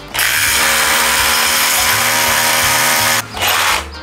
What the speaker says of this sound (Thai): ผมเอาโรตารี่เจาะลงไปทะลุตัวโครงซีเลย